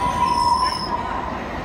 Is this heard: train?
yes